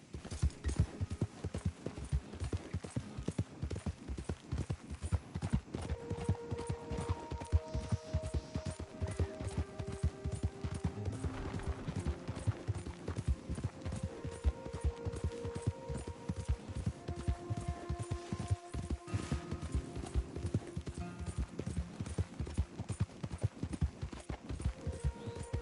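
Horse hooves clip-clop at a steady, quick gait in Red Dead Redemption 2, an even run of close, crisp thuds that never stops, with faint game tones and effects drifting underneath.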